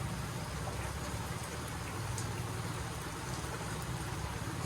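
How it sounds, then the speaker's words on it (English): Steady rain falls in a rural Philippine province, a dense even hiss of drops on surfaces that stays constant and moderately soft from start to finish with no voices. "It never really stopped raining."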